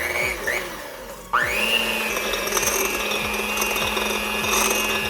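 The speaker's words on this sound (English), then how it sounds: "We'll add butter, brown sugar, and then with my hand mixer, we're just going to work on it." A hand mixer creams butter and brown sugar in a bowl, its motor jumping to a loud, steady whir with a rhythmic scraping pulse as the beaters turn, close and continuous.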